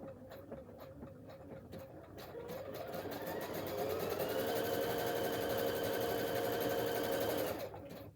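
A PFAFF Expect 350 sewing machine stitching without the presser foot, its motor whirring up from slow thumps to a fast, steady hum and then stopping. Close and clear, with no talk.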